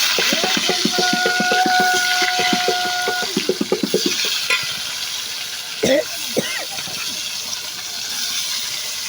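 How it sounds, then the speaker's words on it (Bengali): Fish frying in a pan with onion, a continuous sizzle and hiss beneath a run of rapid scraping stir strokes, then a few sharper knocks, with a voice speaking over parts of it. "এখন আমি মাছটা ভেজে নেব এক পেঁয়াজ দিয়ে মাছ মাছটা ভেজে নিতেছি"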